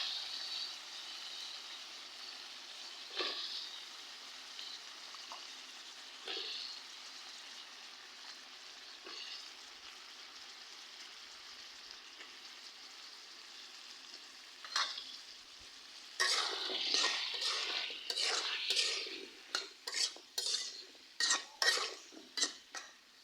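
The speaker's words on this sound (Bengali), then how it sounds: "আমি এখানে তরকারি কষাইতেছি।" Bean and potato curry sautéing in a pan, with a soft steady sizzle and scattered stirring scrapes early on, then a louder run of rapid spoon clatter and scraping against the pan toward the end.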